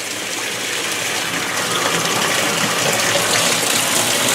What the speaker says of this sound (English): And still, nice solid stream of water, and fills up really nice.